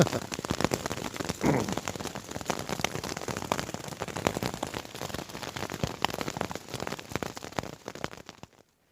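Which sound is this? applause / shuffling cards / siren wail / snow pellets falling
snow pellets falling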